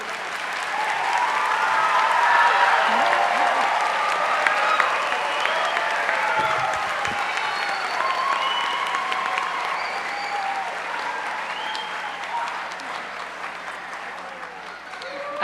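At a 2012 community and technical college commencement in Kentucky, a large audience breaks into sustained applause and cheering that swells early and keeps going steadily, with crowd voices mixed in.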